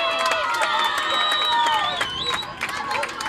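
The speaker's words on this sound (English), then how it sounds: "Here's some Northridge fans cheering on their women" Northridge fans cheering at a women's rugby match, a lively crowd of shouts and whistling cheers with some clapping, heard from a distance under a commentator's voice.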